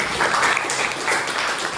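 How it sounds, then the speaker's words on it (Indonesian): A classroom group applauds for two people, a dense, steady burst of clapping that fills the whole moment without a break. "Kita tepuk tangan dulu untuk mereka berdua ya."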